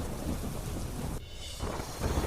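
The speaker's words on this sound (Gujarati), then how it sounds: "સુરતમાં વરસાદ વરસતા પાલનપુર નાકા પાસેની વિવેકાનંદ સોસાયટીમાં પાણી ભરાયા" Heavy monsoon rain in Surat, a dense roaring downpour with thunder-like rumble, steady and loud, briefly dipping midway before swelling again.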